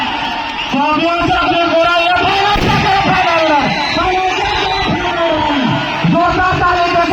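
A crowd cheers and whoops at a girls' cycle race while a man announces loudly over a PA, his amplified voice dominating the continuous roar of yells and applause.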